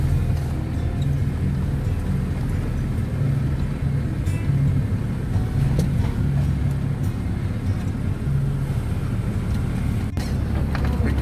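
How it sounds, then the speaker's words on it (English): A car climbing an off-road slope gives off a steady, low engine rumble and drone that holds for the whole stretch, close and constant, with no talking over it. "Now just keep the wheel straight there, off the gas, and just trust the car is going to take you up."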